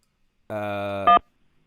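Telephone keypad tone from pressing 1 to accept an incoming call: a single short electronic beep, clear and alone against silence, ending with a brief louder burst.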